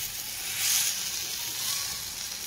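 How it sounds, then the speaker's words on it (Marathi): Colocasia leaf rolls (alu vadi) frying in hot oil, giving a steady, close sizzle and hiss that swells briefly and then settles. "तळून म्हणजे जस्ट फ्राय करून आळूच्या वड्यांना."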